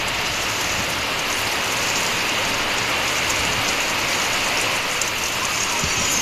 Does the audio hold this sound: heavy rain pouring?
yes